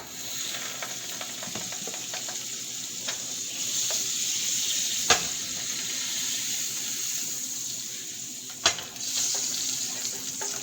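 Steady sizzling of margarine in a hot frying pan, a continuous bright hiss with a couple of sharp clinks partway through, close and without speech.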